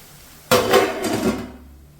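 Lid set down on a cooking pan of soya chunks: one sharp metallic clank followed by a short ringing rattle that fades within about a second, close and fairly loud.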